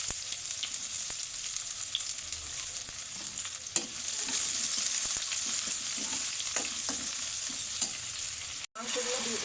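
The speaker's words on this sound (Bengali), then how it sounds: "এলাচ, দারচিনি, লবঙ্গ, তেজপাতা, কেটে রাখা পেঁয়াজ ভেজে নেব।" Chopped onions fry in oil with cardamom, cinnamon, cloves and bay leaves for mutton kacchi biryani, a steady close sizzle with repeated scraping stirs and a short pause near the end.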